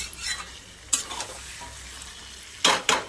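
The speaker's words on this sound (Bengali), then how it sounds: "এখন আমি খালি মাংসটাকে কষবো" Spiced chicken meat stir-frying in a pan, a low sizzle broken by a few sharp scrapes and clanks of a spatula against the metal, near and without speech.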